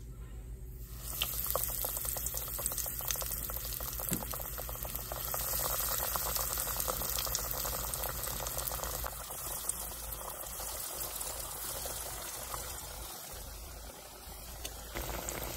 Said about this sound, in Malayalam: അപ്പോൾ നമ്മുടെ എണ്ണ ചൂടായിട്ടുണ്ട്. പിന്നെ ഓരോ നമുക്ക് അതിനകത്തോട്ട് ഇട്ട് കൊടുക്കാമേ.